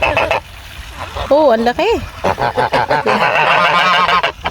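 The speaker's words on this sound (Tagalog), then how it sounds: "So dito naman ay may itik." Farm ducks let out several nasal honking quacks, loud and close, mixed with a person talking nearby.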